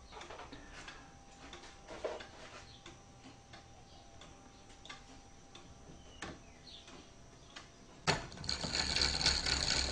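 A mechanical orrery calendar advances the day with a quiet run of small ratcheting ticks and gear clicks, close up, ending in a louder sharp clunk and a brief whirring rush.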